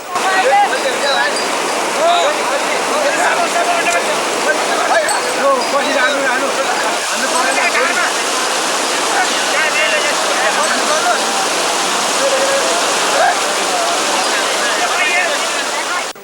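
River water flows and rushes steadily during a riverside funeral sailing ceremony, a continuous broadband wash with a voice speaking over it.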